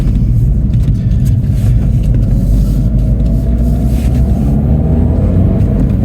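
A Mini with a 1.6 turbocharged engine accelerating, heard as a loud, continuous low rumble that builds steadily with no talk over it.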